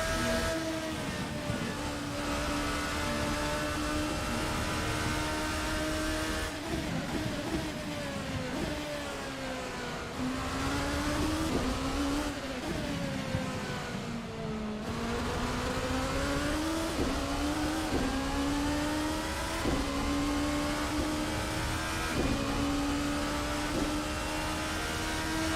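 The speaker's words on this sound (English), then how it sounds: "Noisy Porsche" A Porsche LMP1 prototype race car at Silverstone in Assetto Corsa, its engine a loud continuous whine that rises and falls through gear changes and throttle lifts, close up and steady for the whole stretch, with no voices.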